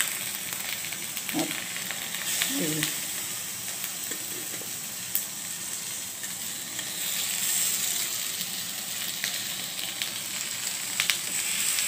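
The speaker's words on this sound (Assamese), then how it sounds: "মই মাছ কেইপিচ এখন গৰম কেৰাহীত" Fish belly pieces frying in a hot wok give off a steady, fairly loud sizzle and hiss that runs the whole time, with a few faint clinks near the start.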